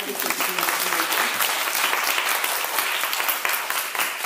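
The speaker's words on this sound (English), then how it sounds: "So give him a round of applause for that." Audience applause fills a hall at an evening talk on unconscious bias, a dense, steady wash of many hands clapping at close range for the whole stretch, with no clear voices over it.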